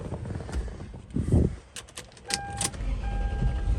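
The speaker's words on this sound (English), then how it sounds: "Let's go ahead and crank her up real quick." A 2001 Lexus LX470 is started from inside the cabin: keys jingle and the starter gives a brief crank, then the engine settles into a steady, close idle with faint whining tones over it.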